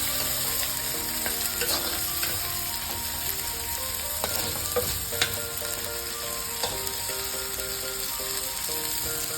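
Chicken pieces frying in a pan with ginger paste for an Andhra chicken curry, a steady loud sizzle with occasional stirring scrapes and no voices throughout.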